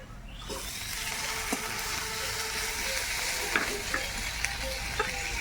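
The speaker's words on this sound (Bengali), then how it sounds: "পেঁয়াজ সুন্দর গলে এসছে এখন দিয়ে দেবো আদা বাটা রসুন বাটা" Onions softened in hot oil sizzle steadily in a pan as ginger and garlic paste are stirred in, with scattered scraping clicks of the spoon over the continuous frying hiss.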